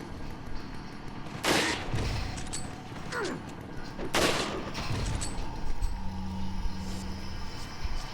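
Rifle gunfire in Resident Evil 4: two loud, heavy shots about two and a half seconds apart, each ringing out with a long echoing tail over steady game ambience and faint mechanical noises.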